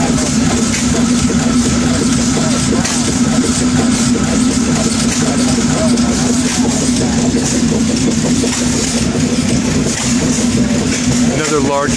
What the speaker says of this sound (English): Another large Muncie engine.